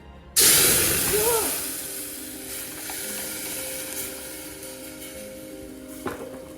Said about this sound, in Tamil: பீஸா சாஸ்க்காக ரெடி பண்ணி வச்சுருக்கிறது நம்ம இப்போ குக் பண்ண போகிறோம்.